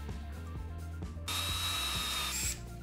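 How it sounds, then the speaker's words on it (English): A power drill or driver screws hinges onto a homemade band saw table, with a steady low motor hum and a louder, higher-pitched burst of driving for about a second near the middle. "I screw them in their place and check whether the table can be tilted correctly."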